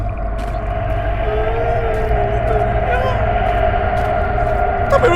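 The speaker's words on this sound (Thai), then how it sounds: "มีเสียงสวดมนต์ในนี้อะ" Low, droning prayer chanting fills a dark interior in the horror game Midnight Prowl, a steady murmur of voices with a sustained tonal hum that stays constant and fairly loud throughout.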